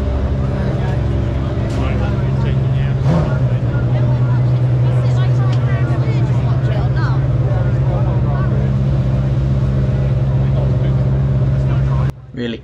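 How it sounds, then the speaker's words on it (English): McLaren GT3 race cars pass by at Donington during a British GT Championship race, a loud sustained engine drone with shifting pitch and crowd noise, ending abruptly. "A few more McLarens. I believe these are GT3 specs, they're faster cars in the championship."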